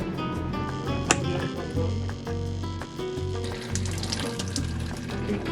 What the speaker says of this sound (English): We're going to fire her up and see if we get any water flowing.